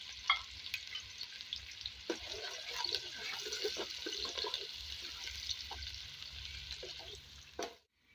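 Onions lightly browning and frying in a pan for an offal (ojri) curry, a steady close sizzle with occasional stirring and scraping clatter throughout, ending abruptly.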